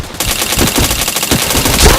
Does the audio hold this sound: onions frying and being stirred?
no